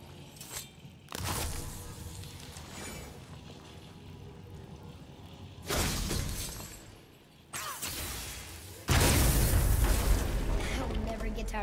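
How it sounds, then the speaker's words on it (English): Objects shattering in God of War (2018), a series of loud crashing, breaking bursts in separate groups, the heaviest near the end, over a continuous game background. "I'll never get tired of shattering things with this."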